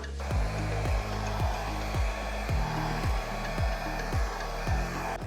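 An air blower pushes wet acrylic paint across a Dutch pour canvas, making a close, steady whooshing roar with a repeating pulsing rhythm throughout.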